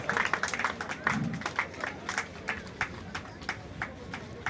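Scattered clapping from a small crowd at a rain run prize ceremony for a race winner, a thin run of separate claps, moderately near and fairly quiet.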